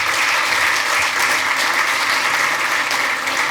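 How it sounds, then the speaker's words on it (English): Audience at a tech demo session breaks into steady, dense applause, many hands clapping together at an even level throughout, with no voices over it. "A round of applause."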